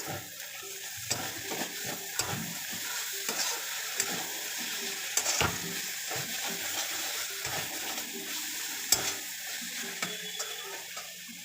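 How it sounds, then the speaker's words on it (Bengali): A radish curry is stirred with sugar in a pan on the stove, a steady sizzle of frying running throughout with soft scraping strokes of the spoon and a few sharper clinks, close and alone without any talk. "দিয়ে দিচ্ছি টু টেবিল স্পুন মতন চিনি দিয়ে ভালো করে আমি নাড়িয়ে নিই"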